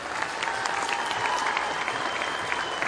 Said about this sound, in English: Can you please clap for him?